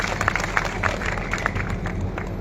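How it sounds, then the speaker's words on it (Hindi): A crowd at an outdoor Gurjar community rally applauds a speaker, steady dense clapping throughout that sounds fairly distant. "इस भाई के लिए एक बार जोरदार ताली का आप सबसे निवेदन करता हूं"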